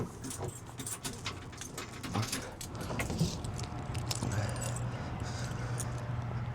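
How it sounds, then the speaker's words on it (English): Metal keys jingle and clink in quick bursts close by at a 1959 Chevrolet Bel Air LS3 restomod coupe, followed by a steady low engine or fan hum. "Let me get the keys and open the trunk real quick."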